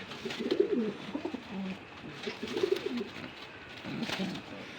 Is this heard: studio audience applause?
no